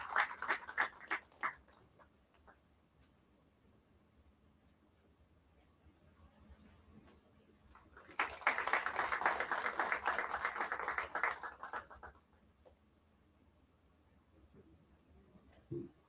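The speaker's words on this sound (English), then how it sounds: "Please have a round of applause, a huge round of applause for our guest of honor" Clapping at an industry summit for a guest of honor, a few scattered claps at first, then a quiet stretch, followed by a fuller burst of applause for about four seconds that stops abruptly, fairly faint overall.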